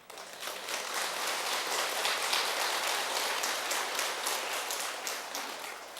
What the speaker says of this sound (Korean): 9개 했다고 하니까는 또 박수 치네